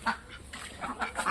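Ducks quack in a quick series of short nasal calls, several bursts close together over a faint outdoor background, with no talking.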